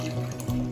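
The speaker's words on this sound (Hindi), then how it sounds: "तो पानी वानी भर रहे हैं" Water running into a new fish tank, a steady close liquid rush with a low hum underneath, continuous through the short moment.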